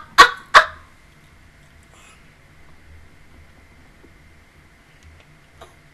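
Two quick sneezes, sharp and close, in fast succession near the start, followed by a near-silent room with a faint click later on.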